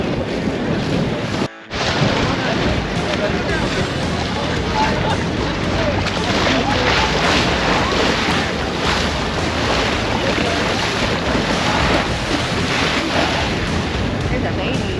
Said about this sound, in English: the waves are definitely crashing a little bit right here